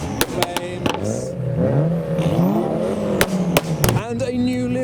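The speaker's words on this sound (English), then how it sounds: "V8 revs from the VXR8" A Vauxhall VXR8's V8 blips and revs in short, sharp bursts arriving at a car show, deep rising engine tones with pops between, heard near among passing traffic and voices.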